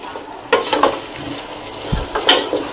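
Country chicken curry being sautéed in a pan with ginger, heard as a soft sizzle with a few scraping spoon stirs and light metallic knocks against the pot.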